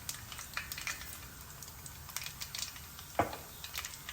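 Mustard seeds crackle and pop in hot oil in a pan with cumin seeds going in, a scattered run of small sharp spits and ticks over a steady low sizzle, close and moderately quiet.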